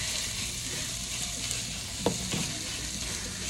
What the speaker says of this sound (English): We're gonna saute up that beef.